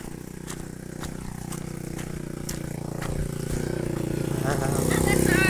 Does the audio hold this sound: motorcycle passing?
yes